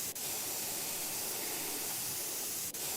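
A spray can hisses continuously while painting in the junkyard-building video game Junkyard Builder, a steady, loud airy rush with two brief dips where the spray momentarily breaks.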